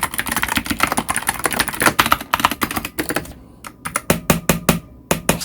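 Rapid clattery typing on a COX CV108 wooden mechanical keyboard with hollow, woody key clicks, dense and continuous at first, then thinning into separate bursts of keystrokes.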